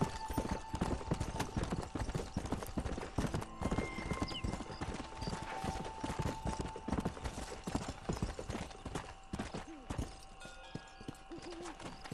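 Horse hooves clip-clop steadily on the ground in the video game Red Dead Redemption, a continuous trotting rhythm under game ambience and background noise.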